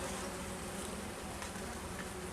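A dense, steady buzz of many honey bees fills the air, close and continuous without pause.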